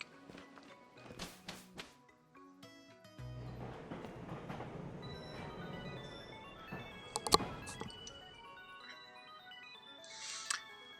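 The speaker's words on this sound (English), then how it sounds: "The train to the Isle of Armor has arrived." A train pulling into a station in the Pokemon Shield video game, with chimes, clattering rail sounds and a brighter jingle near the end, all at a moderate level over background music.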